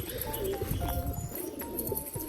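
Several pigeons coo nearby in soft, low, repeated throaty bursts that overlap one another in a steady murmur, with no talking.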